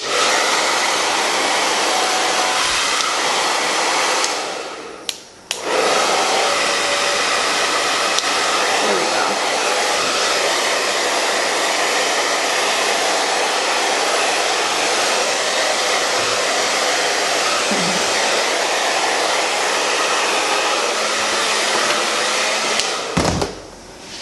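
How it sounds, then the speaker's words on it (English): A hair dryer roars steadily up close, cutting out briefly partway through before resuming its loud, continuous blowing. "Now I have my hair dryer, so I'm just going to dry that up"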